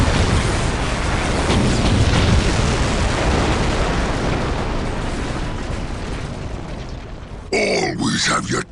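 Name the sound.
bomb explosion in Warhammer 40K Dawn of War video game cutscene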